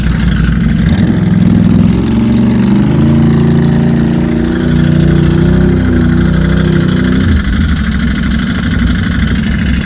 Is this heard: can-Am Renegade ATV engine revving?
yes